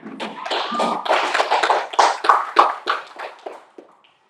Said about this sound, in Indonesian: Dan Bapak ini tepuk tangan buat kita semuanya.